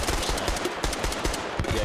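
Rapid machine-gun bursts rattle continuously in the video game Squad, dense and close with sharp repeated cracks and no pause over the short stretch.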